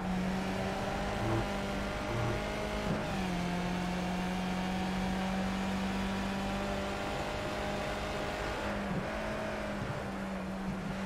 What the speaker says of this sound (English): Some weird revs around there.